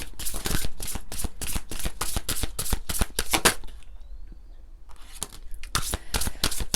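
A deck of forest-spirit oracle cards is shuffled in quick, crisp, close bursts of flicking and riffling. The shuffling pauses for about a second midway, then resumes.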